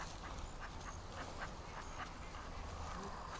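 A duck, one of a small backyard flock, gives a series of faint, repeated quacks at a distance over a constant hiss of outdoor background noise.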